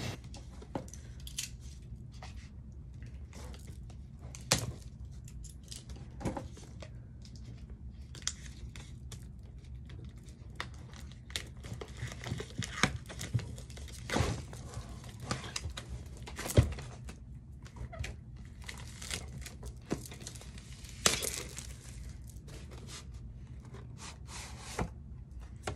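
Opening and unwrapping a Pokemon Elite Trainer Box by hand: close, quiet crinkling of plastic wrap and cardboard with scattered scratches and soft thuds over about twenty-five seconds, with no talk.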